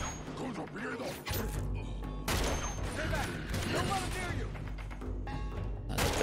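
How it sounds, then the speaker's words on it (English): Dragon Sniper rifle shots in Uncharted 2 Remastered, heavy single blasts with thuds and crashes amid loud game combat noise, while a voice talks throughout. "So now I have the dragon sniper, I have one shot kills, and one shot, he's dead."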